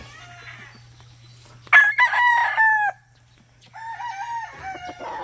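A Boston Black rooster crows close by, two loud, hoarse crowing calls separated by a short pause, over a low steady hum.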